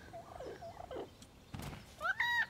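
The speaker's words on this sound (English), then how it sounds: "Speary bird." A bird creature's call in the Spore video game, a couple of bright rising chirps closing out a brief run of softer game noises, moderately loud and with no talking over it.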